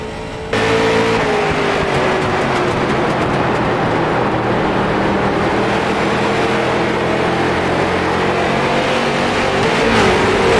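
Street stock race cars roar around an oval in iRacing, a dense, continuous pack of engines droning loudly with shifting pitch as the field circulates, no voices over it.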